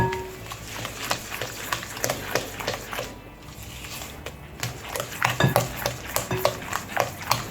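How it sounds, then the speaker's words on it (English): A utensil stirs banana bread batter with sugar and salt in a bowl, giving a run of clinks and scrapes against the bowl at close range, with a dog heard briefly in the background. "So next is our sugar, our salt. So now I'm going to mix everything."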